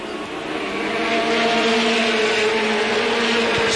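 Late model stock cars roar down the backstretch at Capital in a 1985 race, a loud sustained engine drone that swells as the pack passes, with no talking.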